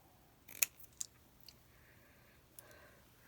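Scissors snip through Christmas bling decorations in a few sharp, close clicks spaced irregularly across a quiet room, with no talking.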